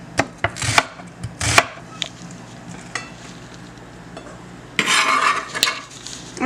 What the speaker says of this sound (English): we're going to cut the onion down, same size